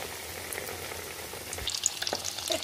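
Rolls fry in hot oil in a home kitchen pan, giving a steady crackling sizzle with scattered sharper pops and spits that grow busier toward the end, close up and with no voices.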